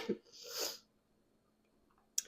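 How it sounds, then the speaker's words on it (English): A single soft sneeze, a quick intake then a breathy burst, followed by quiet and a brief click at the end. "I feel a sneeze coming."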